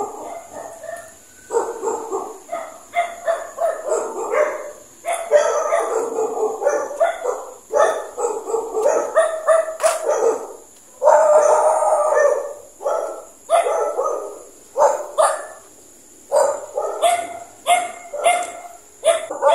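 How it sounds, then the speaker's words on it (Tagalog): A dog barks repeatedly and insistently, nearby and loud, in bursts with short pauses, alongside high whining tones. "Kaso, may aso."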